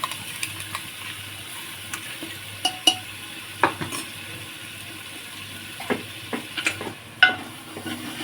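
A spoon scrapes and clinks now and then as chicken curry is mixed in a pot, over a soft steady simmer. The sound is quiet and close, with no voices.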